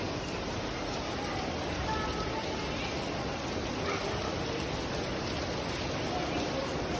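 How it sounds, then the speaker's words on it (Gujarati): Heavy first monsoon rain pours down in Surat as a dense, continuous hiss of falling water that stays steady and enveloping throughout. "વાહ જવા જોઈએ એવો વરસાદ પડે છે અહીંયા અમારા સુરતની અંદર."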